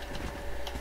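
Horse hooves clip-clop in the video game Trove, a steady, fairly close run of quick hoof beats that continues through the whole short moment with no talking.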